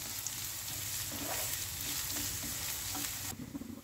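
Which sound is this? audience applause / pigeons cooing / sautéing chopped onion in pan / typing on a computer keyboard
sautéing chopped onion in pan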